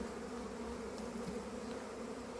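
Honeybees swarm at an opened hive in a dense, steady buzzing drone, close and continuous with no pauses.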